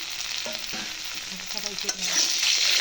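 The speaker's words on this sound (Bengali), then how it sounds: "হালকা করে এটাকে ভেজে নেব" Boiled potatoes fry in salted hot oil with a steady, close sizzling hiss that grows a little louder toward the end.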